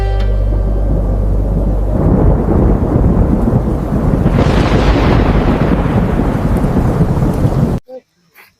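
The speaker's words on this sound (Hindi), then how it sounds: "मौसम खराब होने वाला है, भारी तूफान आने वाला है" A heavy thunderstorm in a horror film scene: loud, rolling thunder and dense rain roar continuously for several seconds, then cut off abruptly into near silence.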